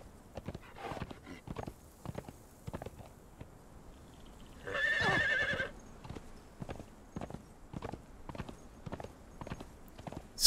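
Horse hooves clip-clop in a steady rhythm through the Conan Exiles video game, with a brief louder whinny-like burst in the middle; no talking over it.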